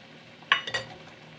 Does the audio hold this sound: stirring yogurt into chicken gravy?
yes